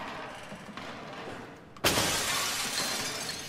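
Glass shatters loudly partway through, in the video game SOMA, a sudden crash followed by a lingering spray of tinkling fragments over a dull ambient background.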